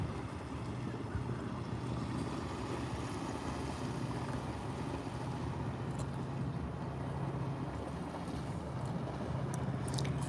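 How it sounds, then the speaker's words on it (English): A steady low engine drone from a grass cutting boat carries across open water on the Norfolk Broads at Potter Heigham, constant and moderately distant with faint wind noise and no voices. "The grass cutting boat"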